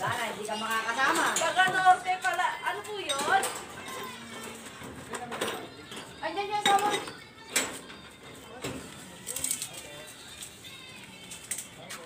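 Construction cement is mixed by hand, with scraping and clinking of tools striking a pan or bucket at irregular intervals while workers talk and laugh over it.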